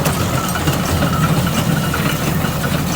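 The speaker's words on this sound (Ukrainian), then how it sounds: "і зразу тракторцем ганяю, збираю" Continuous close chugging drone of a tractor engine running while hay bales are collected in a field, steady and loud with no talking.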